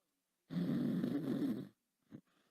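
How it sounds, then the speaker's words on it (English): A person snores once, loud and close into a microphone, a long rumbling breath followed by a short softer snort. "you're snoring on the mic"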